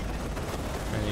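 Gunfire in the video game Call of Duty Modern Warfare 3 forms a dense, continuous roar of shots and explosions, loud and unbroken throughout the short burst.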